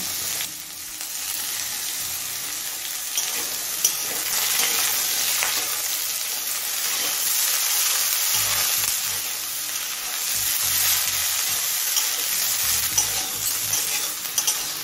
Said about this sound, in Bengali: বেগুনটা দিয়ে আরও মিনিট 2-3 ভেজে নিয়েছি